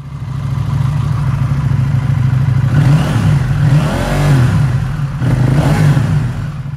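A 2019 KTM 790 Duke motorcycle with an M4 exhaust idles with a steady throb, then is revved in several quick, loud blips that rise and fall before it settles back to idle.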